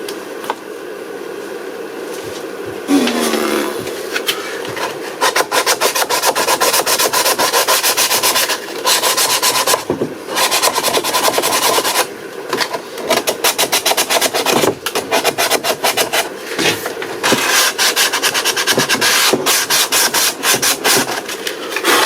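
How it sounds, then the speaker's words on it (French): Hand sanding of a car dashboard part, heard as continuous close scraping and rubbing strokes in a rough, repetitive rhythm, loud and alone without talk. "je dois le poncer direct. Et je l'attaque direct."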